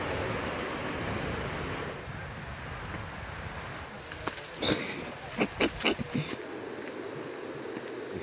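Surf washes continuously onto New Chum Beach in New Zealand's Coromandel, a broad rushing roar mixed with wind buffeting the microphone, followed by several short bursts of sound near the end.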